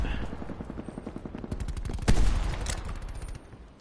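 A gun is hip-fired in a first-person shooter, rapid automatic bursts crack out in steady rhythm with one louder heavy bang partway through, then the shots continue more faintly.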